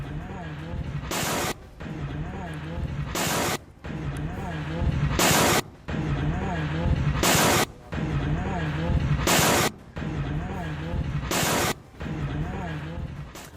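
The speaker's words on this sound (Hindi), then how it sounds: "ईरान के मिसाइल हमले का यह वीडियो भी सामने आया है" Loud, continuous rumbling blasts and roaring noise from an Iranian missile attack on a broadcast center in Tel Aviv, running throughout with periodic short breaks and a voice underneath.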